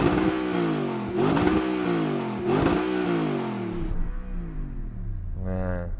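The original Audi R8 V8 engine revs hard in three rising, falling sweeps, loud and close, before the engine note drops back toward idle.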